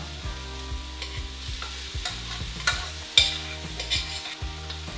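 Quinoa fries in a pan with green onion stems, a near sizzle under repeated stirring scrapes and spatula knocks, with a sharper clatter around the middle, against a faint low rhythmic background hum and no voice.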